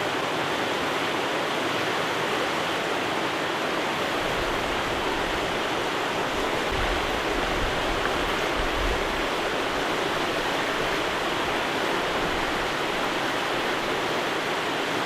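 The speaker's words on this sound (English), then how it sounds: "we're right next to running water" Steady, loud rush of a stream's running water in the Moosehead Lake region of Maine, a continuous broadband wash that fills the whole stretch without pause or voices.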